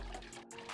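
A Penguin Chiller water cooler at an RV park gently trickles and pours water in a constant small stream; the sound is faint, close and steady, heard alone.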